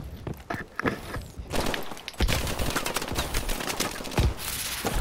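Gunfire in Call of Duty: Advanced Warfare multiplayer, dense bursts of automatic shots mixed with footsteps and impacts, loud and close throughout.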